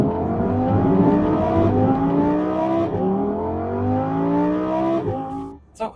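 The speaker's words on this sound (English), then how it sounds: "This just raw V10, I could just sit here and listen to it all day long." Lamborghini Huracan Sterrato with a naturally aspirated V10 revving hard through repeated rising pulls, loud and close, each climb in pitch cut by a brief gear change before the sound drops away at the end.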